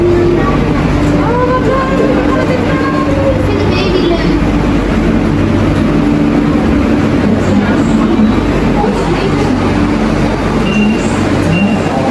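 Train pulling into a station built inside a rock in Switzerland, a steady heavy rumble and rolling clatter up close with a faint high whine, as someone talks over the noise.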